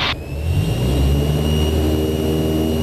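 A light aircraft's engine roars up to power for a go-around on a private pilot flight test. The loud, steady drone holds close throughout, with no talk over it.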